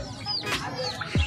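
Chickens cluck softly nearby in short bursts at the Pallavaram Friday market, with faint bird chirps in the background.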